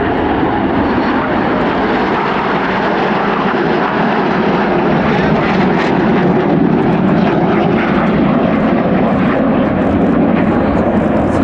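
Red Arrows jet display team flying down the line at the RAF Cosford airshow, a loud continuous broadband jet roar that builds slightly and holds steady throughout, with no talk.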